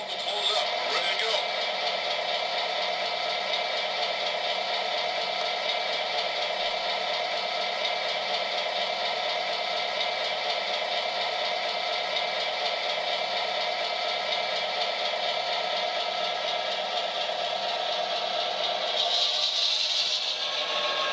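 Diesel engine sound from a DCC sound decoder in an MTH GP38-2 H0-scale model locomotive, a steady idling drone with bright tonal whine held continuously, close and moderately loud with no voices.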